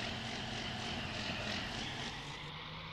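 A John Deere 4440 tractor engine in Farming Simulator 19, a low, steady mechanical drone that stays even and faint throughout.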